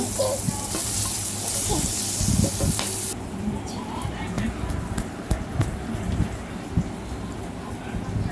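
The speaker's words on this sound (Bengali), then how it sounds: "আমি কাঁচামরিচ ও রসুন কোয়াগুলো দিয়ে দিচ্ছি একটু ভাজা ভাজা করার জন্য" Green chilies and garlic cloves fry in a hot pan, a loud, close, hissing sizzle for about three seconds that then drops to a quieter crackle, with occasional clatters and stirring.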